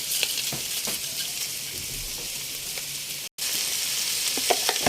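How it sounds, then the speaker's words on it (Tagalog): Cardamom, cinnamon bark and bay leaf sizzle in hot oil in a pan for chicken biryani, a steady close crackling fry with a brief break near the end. "ilagay na natin yung ating cardamom, cinnamon bark, then laurel"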